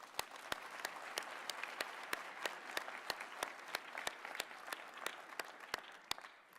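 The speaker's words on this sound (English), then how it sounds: "Could we please give our staff a round of applause?" A graduation ceremony audience applauds the staff with steady, sustained clapping. Sharp, evenly spaced claps stand out above a broad wash of crowd applause that continues throughout.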